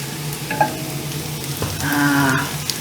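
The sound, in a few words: noodle pancake pan frying in oil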